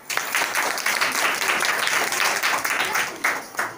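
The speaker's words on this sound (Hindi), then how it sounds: "हाँ देखो अर्जुन के लिए ताली बजाओ" Children clapping for a boy during a group unity activity, a dense, steady patter of many hands that runs throughout with little pause.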